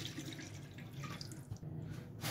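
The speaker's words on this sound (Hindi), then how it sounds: "इसमें मैं तकरीबन दो गिलास पानी डाल दूँगा।" Water poured from a glass into a pot of soaked rice while cooking chicken BBQ rice, a steady splashing, gurgling stream heard up close with no talk.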